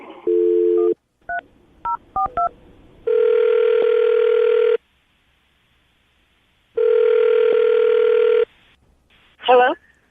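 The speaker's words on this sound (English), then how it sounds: "I'm going to dial the phone number, see if we can get her on the phone" Telephone keypad tones dialing a number in quick beeps, followed by two long ringback tones separated by silence, clear and close, ending with a brief voice.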